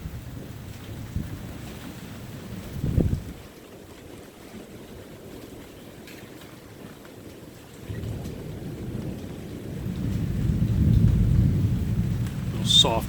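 A thunderstorm with rain gives off deep, soft rolls of thunder, one swelling early and a longer, louder rumble building toward the end over a steady low wash of rain and wind.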